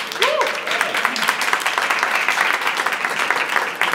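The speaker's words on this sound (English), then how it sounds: "I'd like you to give a round of applause to Annalisa" Audience clapping for Annalisa, the evening's guitarist, at a bookstore event, a steady crowd patter lasting several seconds with a brief voice or tone near the start.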